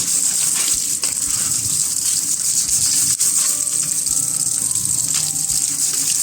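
Tap water gushes steadily and loudly over a part of a Miyako wall fan being rinsed clean of dust, a continuous rushing stream with occasional small knocks and no talking.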